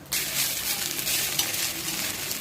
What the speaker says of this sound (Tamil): இப்போ இதில் நீங்கள் நல்லா சூடாக சாதம் வச்சு கிளறி எடுத்துடலாம்